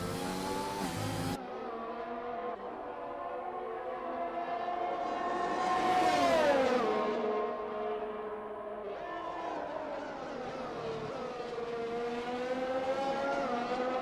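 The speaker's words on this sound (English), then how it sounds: "Quince flies past Blixer and takes the lead" Formula 1 cars race in the video game F1 2021, their high engine whines sweeping up and down through gear changes as one car closes in and passes another, loud and continuous with no talk.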